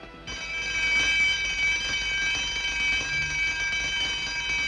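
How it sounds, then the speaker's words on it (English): A palace alarm in a 1940 science-fiction serial sounds as a steady, piercing electric ringing tone that starts abruptly and holds at an even level with no voices over it. "That alarm meant that someone had been captured."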